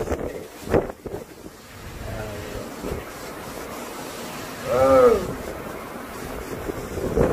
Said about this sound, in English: Yeah, that was a nice little gust.